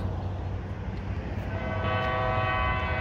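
San Joaquin Valley Railroad locomotives 2405 and 2408 pass Maple Avenue in Fresno, California, with a steady rumble of rolling wheels and a sustained horn blast coming in partway through.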